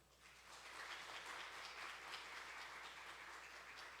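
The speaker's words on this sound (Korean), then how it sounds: "우리 큰 박수로 함께 환영하겠습니다." A church congregation applauds steadily, a dense wash of clapping that holds at an even, fairly soft level throughout.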